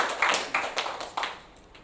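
Seminar audience applause, a few scattered bursts of clapping that fade out quickly.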